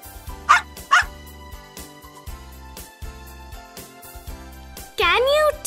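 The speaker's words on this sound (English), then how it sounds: "Dog!" A dog barks in two sharp, loud barks near the start, then a longer whining yelp near the end, all over a bouncy children's music backing with no speech.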